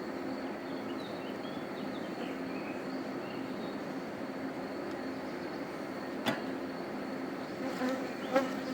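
Honey bees from a top-bar (TSO) hive hum at the open colony during an inspection, a dense steady buzz throughout with a few brief individual bees passing close near the end.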